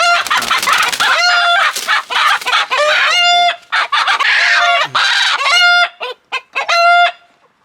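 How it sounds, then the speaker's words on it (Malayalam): Chickens squawking and clucking loudly and frantically while being caught, near and continuous with repeated harsh cries and brief pauses toward the end. "കോഴി എടുത്തു ഈ പിടിക്ക് പിടിക്ക്"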